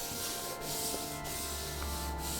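A hand rubs and smears soft pastel across paper in a quiet, continuous scuffing, with brief soft strokes repeating roughly every half second.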